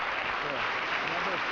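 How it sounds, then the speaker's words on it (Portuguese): A church congregation at a Foursquare Gospel service applauds to welcome a pastor: dense, steady clapping from a large crowd, with faint voices mixed in. "vamos receber aplaudindo a Jesus com alegria"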